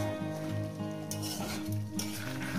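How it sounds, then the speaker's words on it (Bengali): Chicken pieces cooking in masala over a high gas flame for a radish chicken curry, with a steady, close sizzle and low hum running through the whole short stretch, and a few stirring scrapes. "এইবার এই চিকেনের সঙ্গে আমি একটু কভার করে কষিয়ে নেব"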